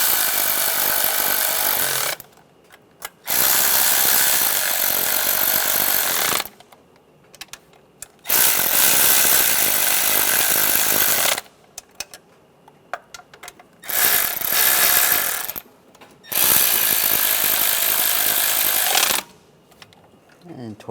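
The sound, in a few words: tightening knock sensor bolts on a Toyota 4Runner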